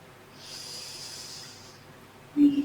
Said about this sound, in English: And then just take a few deep breaths here.